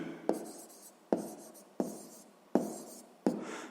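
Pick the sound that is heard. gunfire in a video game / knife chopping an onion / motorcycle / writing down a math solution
writing down a math solution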